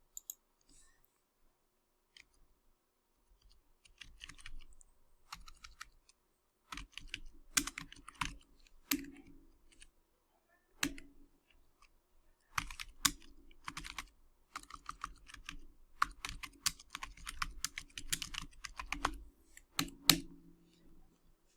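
Rapid typing on a computer keyboard while entering accounting transactions in Tally Prime, with irregular bursts of clacking keystrokes and pauses, close and fairly quiet, no talk.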